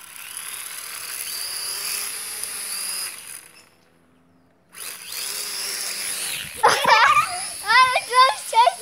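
Small toy drone buzzing with a steady high propeller whine that drops out briefly, then returns close by as children shout and squeal over it.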